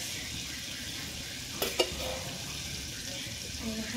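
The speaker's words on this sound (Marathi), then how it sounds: "तेल गरम करून घ्यायचं" Oil heating in a pan for paneer tikka gives a soft, steady sizzling hiss, faint and close, with a couple of brief clinks and a short spoken phrase over it.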